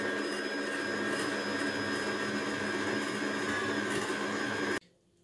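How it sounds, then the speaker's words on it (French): A stand mixer kneads panettone dough at medium speed, giving a steady, even motor whine and whir that runs unbroken, then cuts off abruptly near the end, leaving near silence. "on va laisser pétrir pendant 3 minutes. À vitesse moyenne."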